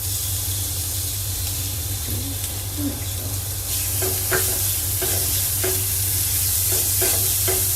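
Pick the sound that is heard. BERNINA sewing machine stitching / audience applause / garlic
garlic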